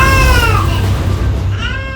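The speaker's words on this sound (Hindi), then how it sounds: "बच्चा रो रहा है" A baby's loud, close wailing cry rises and falls, breaking briefly before starting again.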